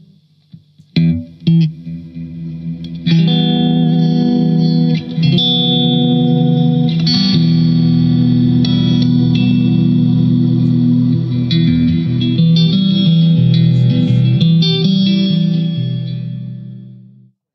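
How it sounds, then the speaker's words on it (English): A sustained, shimmering synth-like tone from octave reverb and particle reverb effects, washed in heavy reverb with octave layers, swelling after a few plucked notes and fading slowly at the end. "So you've just got an octave reverb and a particle reverb on at the moment."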